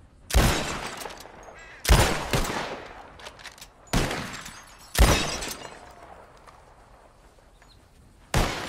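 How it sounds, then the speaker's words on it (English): In Red Dead Redemption 2, a bottle-shooting contest produces five sharp, loud gunshots spaced a second or more apart. Each shot is followed by shattering glass and a trailing echo that decays before the next. "Whoever shoots more of these bottles wins"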